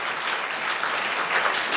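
A church congregation claps hands together in worship, a steady, dense patter of many hands at moderate volume with no speech over it.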